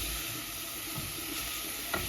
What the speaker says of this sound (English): So we are frying the leeks in olive oil